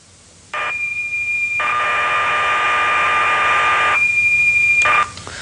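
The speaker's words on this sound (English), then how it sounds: "The program is in fact stored as a set of audio tones or whistles." A home computer program loading as audio tones: a steady, harsh electronic tone with a high whistle and hissing data noise plays continuously, switching pitch partway through, loud and alone.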